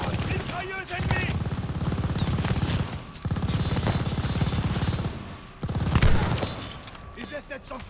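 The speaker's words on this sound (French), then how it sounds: "Mitrailleuse ennemie." Enemy machine gun fire in Call of Duty Vanguard: dense, continuous rattling bursts that are loud and close, with short gaps between volleys, broken by a brief pause near the middle and a heavier burst toward the end.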